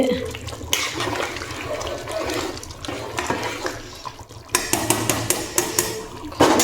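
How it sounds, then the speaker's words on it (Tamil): Rice and water bubble and churn in a pot at a lively boil, with occasional knocks and clinks, while someone talks over it. "இதோ அரிசியும் தண்ணியும் பார்த்திங்கன்னா நல்லா தளபலான்னு கொதிச்சிட்ருக்கு"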